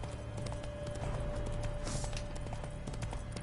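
Horse galloping in The Witcher 3 video game, a steady rapid clip-clop of hooves running continuously close by over a constant ambient game background.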